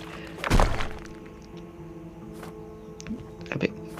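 Chopping a tree in the survival video game Tomorrow: one loud, near wooden thunk opens, followed by fainter knocks and a short crunchy hit near the end over a steady low game-ambience drone.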